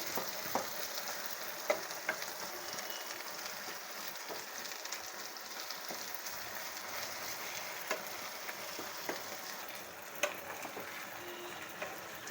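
Gongura (sorrel) leaves frying in oil for Guntur-style pachadi, with a steady soft sizzle and occasional scraping clicks as they are stirred around the pan, no voices.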